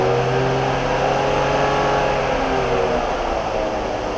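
A BMW X5 with an M54 engine held steady around 2,000 RPM, giving a continuous close mid-range drone with a stable hum and no breaks, heard alone without any talk.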